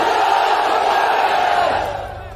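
A large crowd at a public rally, a meeting in Vadgaon, Gujarat, roars back the Nara-e-Takbir slogan, a dense sustained wall of massed voices at steady loudness that tapers slightly at the end.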